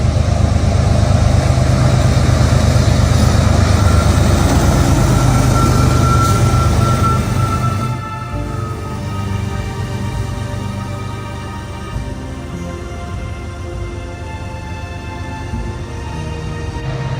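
CN freight train Q148, led by two ST70M-2 locomotives, rolls past with a loud, dense rumble and clatter that drops to a quieter steady roll of wagons partway through.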